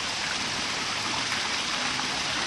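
Water rushes steadily from a pond UV light fitting as it is opened up, a continuous close hiss and splash of flow that holds even through the whole stretch with no voices over it.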